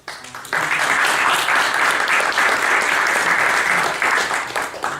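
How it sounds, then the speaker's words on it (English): An audience claps after an evening philosophy talk on free will; after a brief quiet start the applause swells into a loud, sustained round and begins to taper near the end. "Could I ask you all for another round of applause?"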